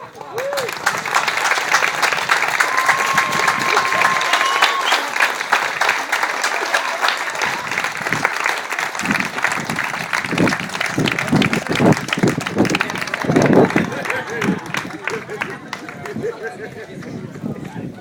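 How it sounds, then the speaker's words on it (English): Wedding guests give the newlyweds a loud, sustained round of applause that fills the whole stretch, with a voice speaking over the clapping. "if I could ask all of you to join your hands together one more time in a round of applause for Mr. and Mrs. Garrett Skinner."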